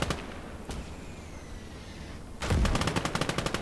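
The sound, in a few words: mortar fire in Gates of Hell video game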